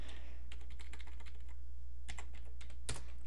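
Steady typing on a computer keyboard, a quick run of close, crisp key clicks with a couple of louder strokes near the end and nothing else.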